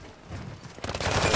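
Rapid video game gunfire from a multiplayer shooter, a burst of shots that grows louder and denser over its second half, up close and with no talk.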